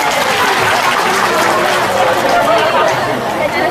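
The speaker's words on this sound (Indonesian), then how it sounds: "Tepuk tangan untuk Indonesia" A large crowd at a humorous Islamic sermon bursts into dense, continuous applause, loud and full throughout, mixed with lively chatter and voices.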